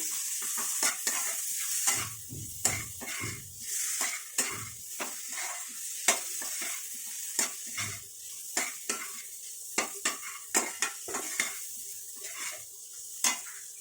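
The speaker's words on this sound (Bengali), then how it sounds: "দিয়ে মশলাটাকে একটুখানি ভাজা ভাজা করে নেবো" Potatoes with chilli and ginger paste fry in a pan for a paneer murighonto, a soft sizzle running under repeated scraping stirs and light clinks of a spatula against metal.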